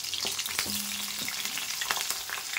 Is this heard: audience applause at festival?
no